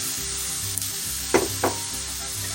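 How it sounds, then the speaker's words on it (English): Rice and mixed vegetables sizzle steadily in a pan while a utensil gives a few soft scrapes as everything is stirred, with no talking. "we're going to let that saute for about 2 minutes"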